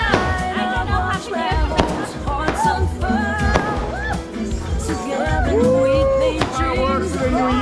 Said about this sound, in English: Fireworks for the New Year.